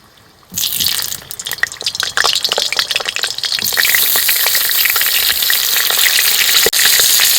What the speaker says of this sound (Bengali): আলুগুলো এইভাবে লাল লাল করে ভেজে নিয়েছি